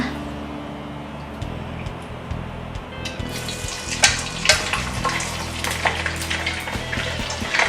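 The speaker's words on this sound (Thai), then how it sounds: "เราก็จะนำไปทอดนะคะ ก็จะมีกระเด็นบ้างนะคะ" Pieces of pork for crispy pork frying in very hot oil, a steady close sizzle that turns into sharp popping and spattering crackles growing busier in the second half.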